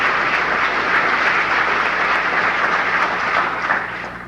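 A steady wash of applause from the Commerce Class members for Andrea Connolly at a MUN Commerce Class of 1994 gathering, sustained and fairly loud throughout before easing slightly at the end.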